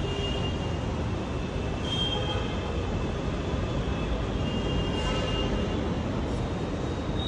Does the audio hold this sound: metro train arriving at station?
yes